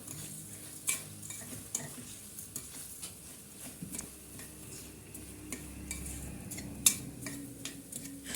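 Bulgur toasting in a pan for pilaf with green lentils, stirred with repeated scraping strokes and soft clinks over a faint dry sizzle; close but quiet, no voices.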